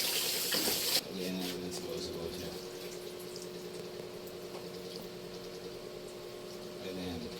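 Water is poured into a pan of sautéed bottle gourd with black pepper, making a loud rushing splash at first that settles into a quieter, steady watery sizzle while a person talks.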